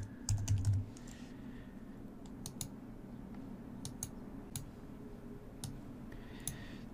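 Typing on a computer keyboard, sparse bursts of crisp key clicks and taps spread across several seconds, close and quiet with a faint hum beneath.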